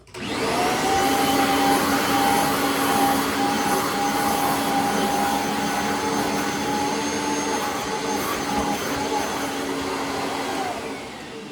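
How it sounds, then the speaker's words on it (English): A Bissell CleanView vacuum cleaner runs steadily at close range with a loud, constant whine and a sustained motor hum, starting abruptly and easing off at the very end, with no speech. "So let me vacuum this area off before I get to the bin."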